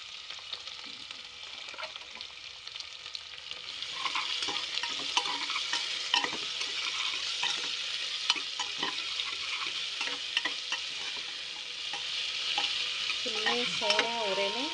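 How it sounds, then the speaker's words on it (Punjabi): Finely chopped potato, onion and ginger frying in a pan for namkeen rice, a steady crackling sizzle broken by repeated scraping stirs, close and alone, with a faint clink near the end. "ਹੁਣ ਅਸੀਂ ਪਾ ਦਾਂਗੇ ਪਟੈਟੋ, ਆਨੀਅਨ ਅਤੇ ਅਦਰਕ ਬਰੀਕ ਬਰੀਕ ਕੱਟਿਆ ਹੋਇਆ।"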